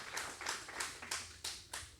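A church congregation at a Sunday service claps in a loose rhythm, about seven distinct sharp bursts of hand claps over two seconds, fairly close and fading between beats.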